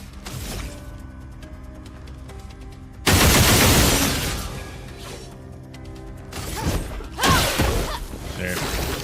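Gunfire in the video game Expedition 33 crackles in rapid volleys, a loud burst of shots with whooshing impacts and crashes breaking over a steady game soundtrack.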